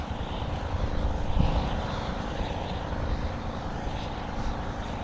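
Two engines run at once, a loud, steady mechanical drone with a dense low rumble, no pauses and no talking.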